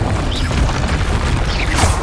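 A Confringo spell explodes in the video game Hogwarts Legacy. Loud, dense booming and crackling blasts fill the whole two seconds, and a few whooshing streaks cut through near the start and the end.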